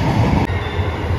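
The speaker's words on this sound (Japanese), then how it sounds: "20時31分通過 EF210 電気機関車高松貨物ターミナル行き。" A JR Shikoku EF210 electric locomotive hauling a freight train to Takamatsu Freight Terminal passes through Tokushima Station, a loud, steady rail rumble close by with no talk.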